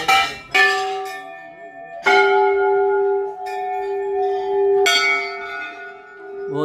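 Temple bells at Kasar Devi temple near Almora in the Himalayas, where thousands of bells hang along a narrow passage, are struck four times. Each clear metallic strike rings on with a long, humming decay.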